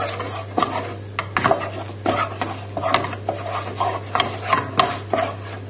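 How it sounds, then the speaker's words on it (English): Butter stirred in a pan with a utensil, giving repeated scraping and clinking strokes against the metal over a steady low hum, close and moderately loud with no talk. "So just stir in the butter until it's melted"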